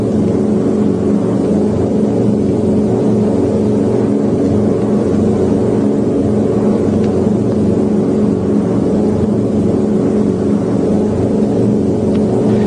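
Boeing B-17 Flying Fortress bomber radial engines run at about 1400 RPM, a loud continuous throbbing drone that stays steady throughout.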